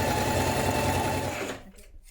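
A sewing machine runs fast and steady as it stitches a seam on a tunic top, a loud close whir that stops abruptly near the end.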